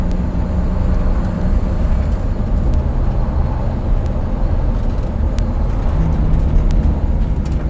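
A 1962 GM 4106 coach with a three-speed lockup transmission drives a backcountry road, its engine a steady, loud low rumble throughout with road and cabin noise; a gear shift is not clearly distinct.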